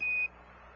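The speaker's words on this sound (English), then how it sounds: "Roger, 1201 alarm." A single steady electronic alarm tone from an Apollo lunar module, the 1201 program alarm, sounds loudly for a quarter second then cuts off, leaving faint radio hiss.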